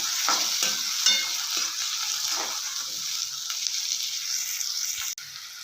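Tomatoes and onion fry in a pan for vermicelli upma, giving a steady, close sizzle with the scrape of stirring and no talking.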